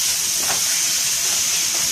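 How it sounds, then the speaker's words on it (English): Steady loud sizzling hiss of chicken and longaniza sausage stir-frying in a hot pan, continuous and close, with no talking. "Now we just start stir frying all this here."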